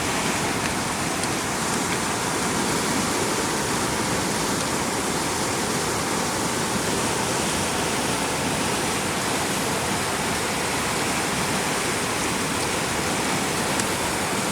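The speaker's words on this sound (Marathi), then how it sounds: "काळू नदी काळू नदी आहे हो मोठी ना" Kalu River in full monsoon flood, a loud, steady roar of rushing water that fills the whole stretch without pause, close and dense, with no voices over it.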